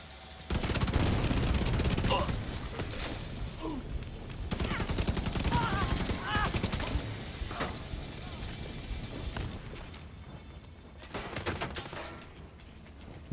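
A big gun in a video game fires in dense, rapid bursts of heavy shots, loud and close, with brief pauses between volleys and a voice talking intermittently over the gunfire.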